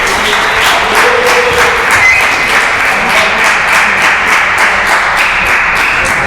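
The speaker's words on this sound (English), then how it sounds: "It's the first time I've gotten applause like that." Steady, dense applause from a room of people at a village zoning board of appeals meeting, sustained clapping holding at an even level for several seconds with no break.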